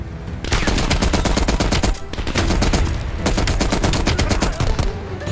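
Rapid heavy machine-gun fire from a large weapon in Call of Duty Black Ops Cold War, loud close bursts of dense repeated shots with a short break between them.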